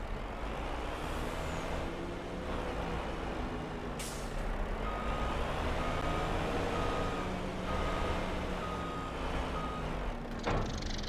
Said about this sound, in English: I don't know what I'll attach to this truck